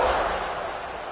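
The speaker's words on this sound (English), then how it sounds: "this crowd is buzzing after that last score" A football stadium crowd at an East Carolina vs North Carolina game keeps up a dense, steady roar after a score, with a commentator talking over it.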